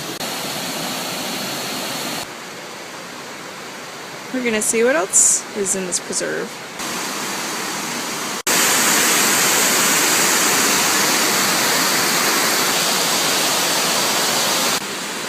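A waterfall in a gorge at Plotterskill Preserve in Rotterdam gives a steady broadband rush that briefly drops behind someone talking midway, then returns louder and closer.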